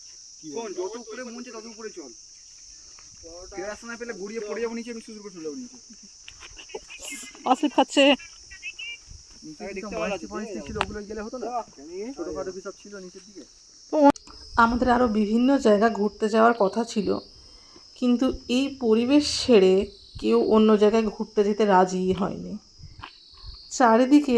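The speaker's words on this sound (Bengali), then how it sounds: "সকালেও ঝিঝি পোকার ডাকের সঙ্গে আমাদের অভ্যর্থনা করছিল এখানে" Crickets in a hillside tea garden near Sittong keep up a steady high, shrill chirring throughout, while people talk at length over it in the foreground.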